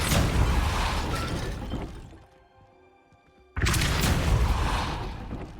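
Depulso spell blast in the game Hogwarts Legacy, a loud crashing burst of shattering debris, followed by a short lull of quiet ambience before a second heavy blast erupts and rumbles on.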